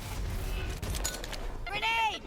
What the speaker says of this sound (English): That nade is gonna hurt.